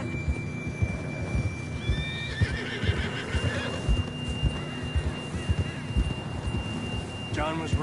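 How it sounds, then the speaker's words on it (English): A horse whinnies loudly near the end over steady outdoor ambience and soft hoofbeats, with game-like background sound throughout, in the video game Red Dead Redemption 2. "John was riding that horse when we left Blackwater."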